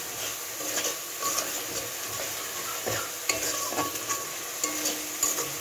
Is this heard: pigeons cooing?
no